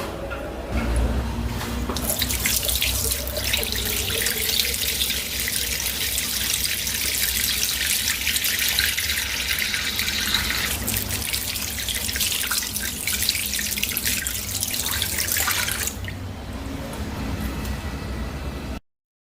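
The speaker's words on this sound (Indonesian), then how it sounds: "Saya akan cuci tangan terlebih dahulu." Hands being washed under a running tap at a sink in a clinical examination room, with a loud, steady gush of water splashing close by for most of the time, then abruptly shutting off.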